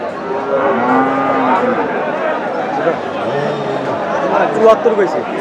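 Sahiwal cattle at a busy livestock market in Boda give several long, drawn-out moos, with people talking and crowd chatter running steadily underneath.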